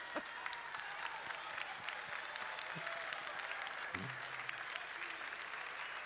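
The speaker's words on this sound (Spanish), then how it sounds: "Gracias por sus económicos aplausos." Audience applause in a live folk and humour venue, a steady patter of many hands clapping at moderate distance, thin and somewhat sparse, with a faint voice briefly underneath.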